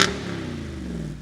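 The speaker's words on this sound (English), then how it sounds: "an exhilarating, unmistakable V8 sound" A Jeep Wrangler Rubicon 392 V8 rumbles through its dual-mode exhaust, a steady deep idle-like growl with strong low harmonics, starting with a brief bright burst and holding close and fairly loud throughout.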